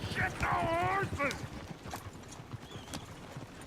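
Horses in Red Dead Redemption 2 clatter with quick clip-clopping hooves and let out a rising squealing whinny, fairly close, followed by scattered hoof thuds and rustle.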